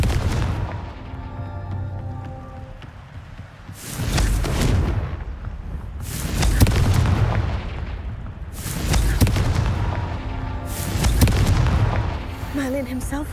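Four heavy, booming blasts from the Confringo fire spell in Hogwarts Legacy, each rolling out with a deep rumble and spaced a few seconds apart over a low background drone.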